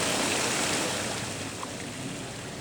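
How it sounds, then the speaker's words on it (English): A garden creek runs steadily, giving a continuous rushing, burbling wash of flowing water that stays fairly close and even, gently easing off toward the end with no talking. "It's the creek. When it rains, it goes up, comes up over the wall."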